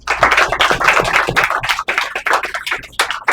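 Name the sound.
audience applause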